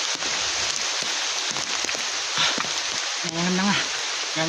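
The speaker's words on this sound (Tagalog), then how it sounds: "Lakas din ng ulan." Heavy rain from a typhoon pours down on a mountain in a dense, steady hiss, with a short voiced call cutting through near the end.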